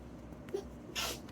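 A single short sneeze, fairly faint, over a quiet background hum.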